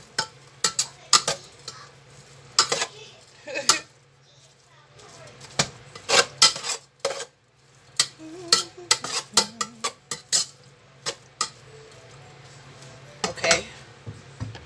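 A utensil stirs garlic salt into a metal pan, with a string of sharp, irregular scrapes and clinks, close and fairly loud, separated by short pauses.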